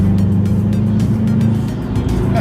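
Subaru turbo car in Sport SI Drive mode, heard from inside as steady, loud engine drone with a low rumble throughout, no talk.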